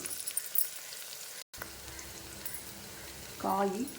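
Vegetables with curry leaves fry in a pan, a steady low sizzle with faint crackles, then a brief louder clatter near the end as potatoes, beans and carrots are tipped in for a white vegetable kurma.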